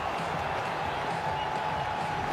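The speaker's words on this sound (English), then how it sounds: "The crowd erupts." A cricket stadium crowd at a 2011 World Cup match between India and Bangladesh roars after a wicket, a dense, steady wall of cheering and applause that fills the whole moment without a break.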